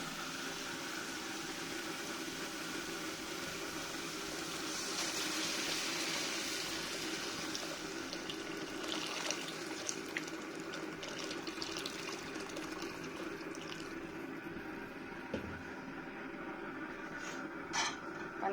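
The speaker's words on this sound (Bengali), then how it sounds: "এখন পানি দিয়ে দেব।" Hot water from a kettle is poured into a pan of spices frying in oil for a Bengali soya chunk curry, a steady close watery rush with hissing over a constant low background hum, with no one speaking.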